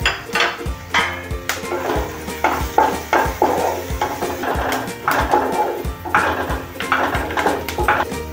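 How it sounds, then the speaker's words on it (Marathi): Green chillies and curry leaves crackle and sizzle in hot oil for Mumbai-style vada pav, with steady frying hiss broken by repeated scraping stirs and clinks of a spoon against the pan, close and fairly loud. "आणि यावरच घालते आता हिरवी मिरची आणि कढीपत्ता"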